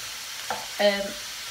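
Brief faint sizzling from food frying in a pan, with a couple of short clinks from stirring; no voices.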